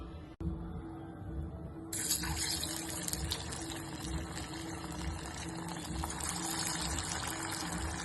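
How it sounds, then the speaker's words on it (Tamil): Malai kofta balls deep-frying in hot oil on a medium flame, a dense, continuous bubbling sizzle that swells louder after a brief start and holds steady. "இந்த உருட்டி வச்சிருக்கிற இந்த பால்ஸை லைட்டாக இப்படி தட்டிட்டு அந்த எண்ணெயில் போட்டு பொரிச்சு எடுக்கணும்"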